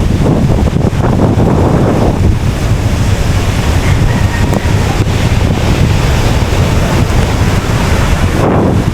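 Strong wind buffets the microphone over the rush of sea waves at the beach shore, a loud, continuous roar without speech.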